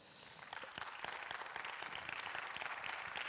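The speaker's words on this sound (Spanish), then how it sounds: "Den un aplauso al Señor" A church congregation claps during a sermon on the armor of God, a dense, steady wash of many hands building over the first half-second and holding at moderate level throughout.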